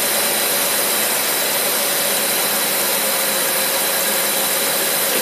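An engine fitted with a Holley teapot carburetor idles near 900 RPM, a loud, steady, unbroken roar that fills the whole clip with no pauses or speech.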